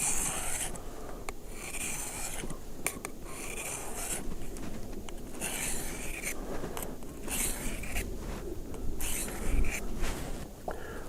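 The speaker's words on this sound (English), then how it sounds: "couple minutes there on the sharpening stone" A Schrade Frontier SCHF37 knife blade scrapes across a sharpening stone in repeated rhythmic strokes, close and fairly quiet, with brief pauses between passes.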